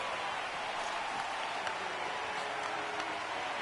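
An arena crowd at American Airlines Center roars and applauds in a steady, loud wash after a Dallas Stars goal against the Wild in NHL 26, a sustained cheer with no clear breaks.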